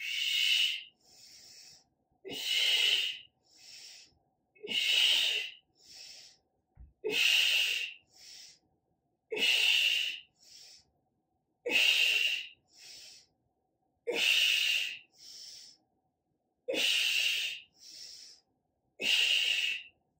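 Strong rhythmic breathing during a core workout, with loud hissing exhales and softer inhales alternating evenly about every second and a half, close up and with no talking.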